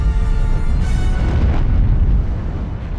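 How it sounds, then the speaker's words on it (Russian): The battlecruiser Hood blowing apart in a massive explosion during a naval battle, a loud deep roaring boom that fills the whole stretch and slowly rumbles away, heard alone without talk. "Через считанные секунды чудовищный взрыв переломил «Худ» на две части."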